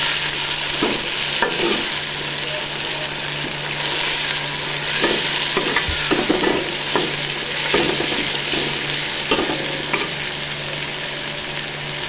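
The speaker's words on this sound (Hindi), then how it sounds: "टमाटर डालेंगे। और अच्छे तरीके से फ्राई करेंगे।" Tomatoes frying in a pan for a Punjabi-style chana dal with bottle gourd, a continuous loud sizzle broken by repeated stirring clatters from a spoon.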